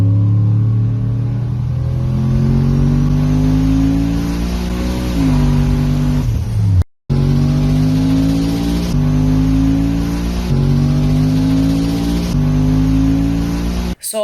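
A turbocharged Cadillac Escalade engine runs at steady, loud, close range, with an even drone and smooth rising and falling rev sweeps and no surging, cut off by one brief break near the middle.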